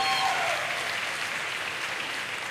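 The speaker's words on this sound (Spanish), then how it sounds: "Denle un buen aplauso al Cordero de Dios." Audience in a church congregation applauding loudly and steadily, a dense wash of clapping that holds for a few seconds and tapers slightly toward the end.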